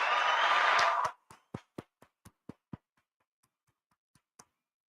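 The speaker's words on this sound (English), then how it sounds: "I gotta give HG a round of applause, man." After a loud burst of noise, one person claps about seven times, sharp and close, in an uneven rhythm. The claps then trail off into a few faint, sparse taps in a quiet room.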